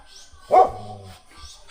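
A single deep bark from a large dog, fairly close, at a resort in Unisan, Quezon, Philippines, with quiet surroundings before and after.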